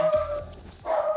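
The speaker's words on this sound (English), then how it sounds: "My dog is barking at you." A dog barks close by, two short yaps separated by a brief pause, loud and clear with no talking.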